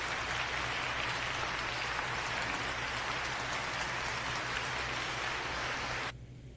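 Canned applause sound effect played over a livestream, a dense, steady wash of clapping and cheering at constant loudness that cuts off abruptly near the end.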